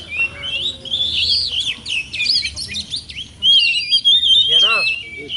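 An Oriental magpie-robin (kacer) in breeding condition sings loud, varied whistles and rapid chirps close by, with brief pauses between phrases over faint background noise.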